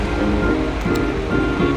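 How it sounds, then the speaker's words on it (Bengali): Potatoes dropped into hot oil in a pan sizzle and splatter in a dense, steady hiss, loud and close, with no talking. "এই আলুটা তেল ছিটে যাচ্ছিল"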